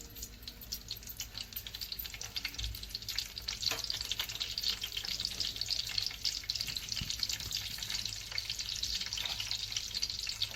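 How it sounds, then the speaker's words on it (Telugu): Steady, crackling sizzle of tempering spices, dried chillies and onions frying in a hot pan for Nellore fish curry, continuous and close, with occasional stirring scrapes and no talking. "తిరగమాత దినుసులు, ఉల్లిపాయలు కొంచెం వేగాలి"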